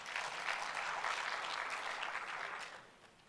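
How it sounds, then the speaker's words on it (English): An audience at a conference gives a round of applause, a dense wash of many hands clapping that holds steady, then fades slightly at the end. "Let's give him a good round of applause."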